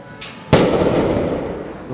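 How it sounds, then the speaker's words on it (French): A police sting-ball grenade goes off at a street protest: a faint pop first, then one sharp loud blast whose roar slowly fades away. "Donc là, on voit un usage quand même de la grenade de désencerclement"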